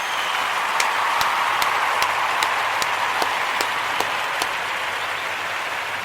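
A round of applause plays as a steady, dense wash of clapping with a faint regular ticking pulse running through it, continuous and even for about six seconds.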